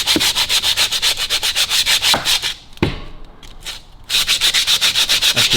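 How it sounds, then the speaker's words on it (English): Glazed brake shoes from the cable brakes of a 1934 Buick are sanded by hand: loud, close, rhythmic rasping strokes in a fast steady run, pausing briefly midway before the scrubbing resumes at the same pace. "I just need to sand those off. They've got too much glaze on them at the moment."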